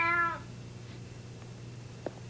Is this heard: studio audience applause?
no